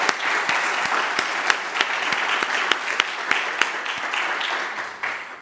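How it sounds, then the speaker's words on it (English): A steady round of applause from an audience at an awards ceremony fills the room, a dense wash of clapping with a few sharper near claps, fading slightly at the end. "Please join me in giving a round of applause."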